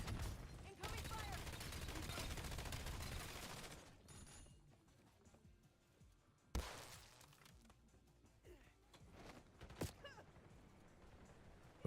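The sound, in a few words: gunfire in Call of Duty Black Ops 7 video game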